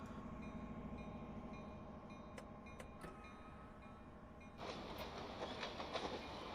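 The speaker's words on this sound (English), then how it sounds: "There's a freight train." A freight train from the game Train Sim 22 rolls past quietly with a low rumble and rhythmic clatter of wheels, growing busier in the last seconds, with a few sharp clanks.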